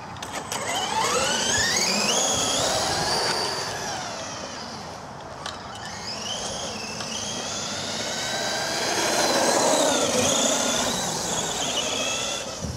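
A Mini MT4 G3 RC monster truck on a 4S battery makes a loud, continuous high-pitched motor whine that rises and falls as it speeds up and slows down, with tire noise and no one speaking.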